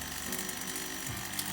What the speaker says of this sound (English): when the turbo pump is spinning up, all these things can be rumbling